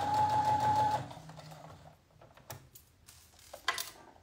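A domestic sewing machine stitching a straight seam, running at a steady hum for about a second, then stopping, followed by light mechanical clicks and handling taps.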